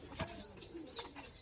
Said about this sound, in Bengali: এই হলো কবুতর গুলা।